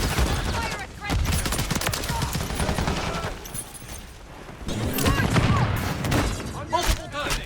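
Multiple guns fire in Call of Duty Warzone 2 gameplay on PC: dense, loud bursts of automatic gunfire and shots overlap continuously, easing briefly before another heavy volley.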